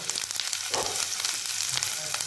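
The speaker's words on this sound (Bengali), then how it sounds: "আদা রসুনকে আমি বাটারের মধ্যে হালকা কষিয়ে নেব" Ginger garlic paste fries in melted butter for dal makhani, a close, bright sizzle with occasional stirring scrapes and a short burst of bubbling. No one speaks.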